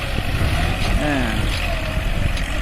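A new 40-horsepower Kubota tractor engine drones steadily during rice straw ploughing in a field, with a continuous rumbling hum and someone talking over it throughout.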